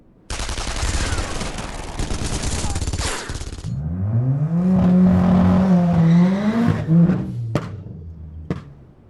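Dense crackling bursts of gunfire for several seconds, then a rising engine roar with revving and a few sharp pops near the end.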